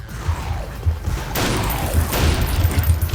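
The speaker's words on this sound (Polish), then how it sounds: "patrzcie, jak tu wszystko wybucha" Explosions in the video game Painkiller Overdose: repeated booming blasts and crashing bursts, with sharp onsets around the middle and later, over a rumbling, chaotic game soundscape and no talking.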